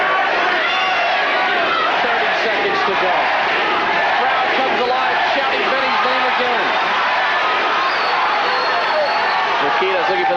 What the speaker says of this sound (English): Crowd comes alive, shouting Benny's name